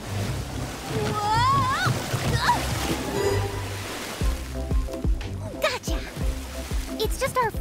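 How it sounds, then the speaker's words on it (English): Cartoon water splashes and sloshing waves churned up by an excited jellyfish at the beach, continuous and fairly loud beneath animated voices and music. "When he's excited, he makes waves in the water."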